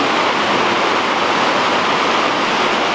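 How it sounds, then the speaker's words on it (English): Limestone Creek in Manlius, near Syracuse, New York, a feeder stream for the Erie Canal, rushes past as a loud, constant broadband roar of flowing water, close by with no voices. "This is the limestone creek that flows through town of Manlius, Onondaga County, just east of Syracuse, New York."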